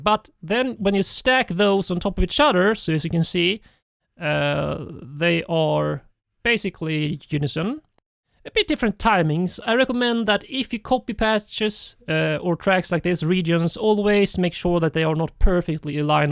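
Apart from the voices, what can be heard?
No everyday noises stand out.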